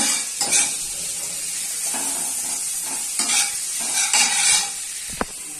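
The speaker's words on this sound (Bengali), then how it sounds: "আমরা ভাজবো, ভাজা হচ্ছে" Onion and green chili frying in hot refined oil, a steady sizzle broken by repeated stirring scrapes and a sharp clink of utensil on pan near the end.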